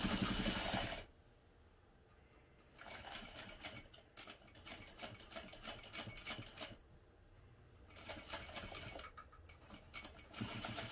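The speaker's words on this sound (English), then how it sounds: "I'm sewing from the other side because my sewing machine did skip stitches." A sewing machine stitches through thick vinyl in two bursts of rapid, even mechanical chatter, separated by a short pause and a quieter gap, close and loud with no talking.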